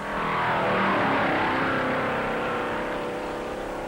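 Late-1950s NASCAR Grand National stock cars roar at full throttle around the high-banked oval in the 1958 Southern 500, a loud continuous engine drone that swells slightly and holds steady with no speech.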